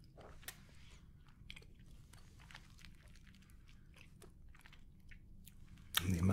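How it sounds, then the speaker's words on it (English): Quiet, close crunchy chewing of a dragon roll sushi, with soft irregular bites and clicks over a low steady hum, ending in a louder burst of handling noise. "coupled so well by the crunch."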